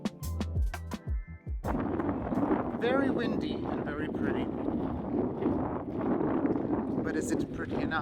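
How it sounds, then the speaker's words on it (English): Strong wind blows outdoors in Copenhagen, buffeting the microphone with a steady roar that sets in after a brief moment and continues to the end. "Very windy and very pretty."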